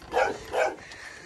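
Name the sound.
dog barking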